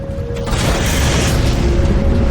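A particle cannon fires in Halo 4, a deep booming blast with a sustained roaring rumble that stays loud and dense throughout.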